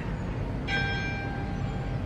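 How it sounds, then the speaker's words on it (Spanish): A church bell strikes once with a clear metallic clang, its ringing tone sustaining and slowly fading over a quiet background. "Y esta campana que me gusta."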